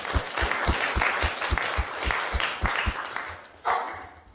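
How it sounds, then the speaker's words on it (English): Audience at an evening academic lecture event applauding, a steady round of clapping with strong rhythmic beats that tapers off near the end, followed by a brief louder burst. "Let's give yourself a round of applause for the work you're doing."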